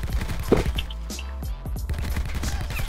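Rapid bursts of Peacekeeper assault rifle fire in a Black Ops shooter game, a rattling string of shots at moderate volume, no talking.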